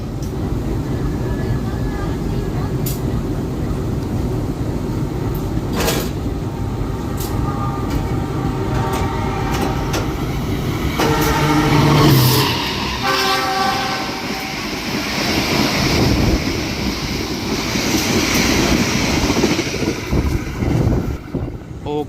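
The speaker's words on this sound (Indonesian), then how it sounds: "itu dia Sancaka ngebut" Sancaka express train speeding through near Ngawi station, a loud sustained rush of wheels and carriages with rhythmic clatter and a horn blast, passing close by; a voice speaks briefly over the roar.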